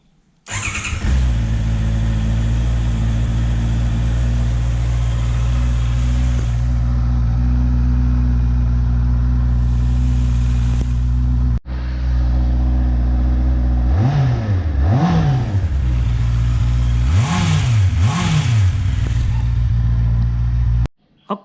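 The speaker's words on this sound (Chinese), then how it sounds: "现在我们就来听听看它4缸的声音。" A 2021 Honda CBR650R four-cylinder motorcycle fires up and settles into a steady, close idle, then gets several sharp throttle blips that rise and fall in pitch before the engine shuts off.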